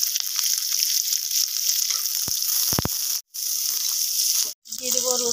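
Chopped onion frying in hot oil with dried and green chillies in a pan, a steady loud sizzle broken by two short gaps and a few soft clinks of stirring.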